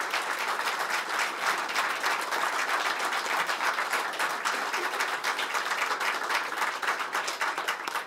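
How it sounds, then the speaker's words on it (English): An audience at a military ceremony applauds steadily throughout, a dense wash of many hands clapping at an even level without pause. "Ladies and gentlemen, please give a warm round of applause for Lieutenant General Jack Klemp."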